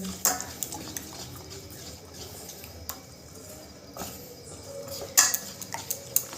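Pitha batter being stirred with milk in a bowl for patisapta, giving soft, scattered clinks and scrapes at low volume, with a few sharper taps against the bowl rim.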